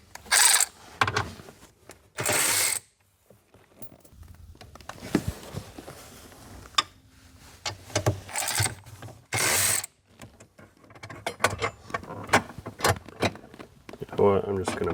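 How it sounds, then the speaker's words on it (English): Bolts come off a Ford Thunderbird front electronic module, with repeated bursts of quick metallic ratcheting close by, separated by pauses, clicks and handling noises, while someone talks. "this bolt right here needs to be removed, and the top one needs to be loosened."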